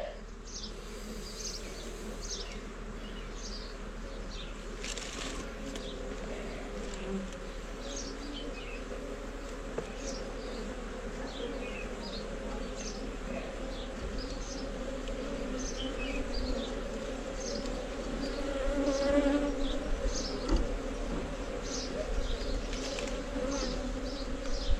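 Honeybees buzz around their hives in Mafate on Réunion island, a dense, steady swarm hum with many individual insects passing close, continuous throughout and growing slightly louder toward the end, with no talking.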